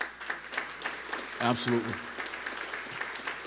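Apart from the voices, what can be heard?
audience applause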